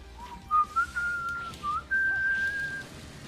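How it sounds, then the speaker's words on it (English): Proto Man's signature whistle tune from Mega Man X4 plays as a clear melodic whistle, a short phrase of sliding and held notes sounding alone over a faint background. "If only Zero could whistle like the boss."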